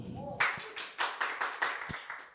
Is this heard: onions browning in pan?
no